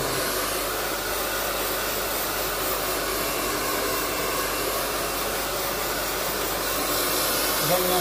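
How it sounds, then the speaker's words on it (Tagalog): A hair dryer blows steadily and loudly while someone dries their hair, a continuous even whoosh of air that holds for the whole stretch without a break. "At mag-blower lang ako ng buhok."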